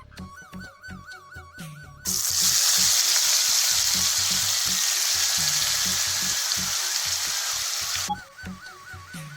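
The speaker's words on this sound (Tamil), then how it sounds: "ஆயில் ஊற்றிட்டு கொஞ்சம் சூடானதுக்கப்புறம் இப்போ நம்ம அதை போட்டு ஃப்ரை பண்ணிடலாம்" Paneer cubes drop into hot oil in a home kitchen pan and break into a loud, steady sizzle that holds for about six seconds before cutting off, with quieter clinks and stirring sounds before and after.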